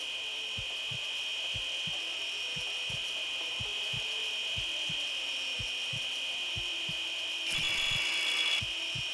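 Saw blade in the Surgeon Simulator 2013 video game: a steady high mechanical whine held throughout, with a rapid regular train of short low rasping strokes beneath it and a brief brighter swell near the end, no voices.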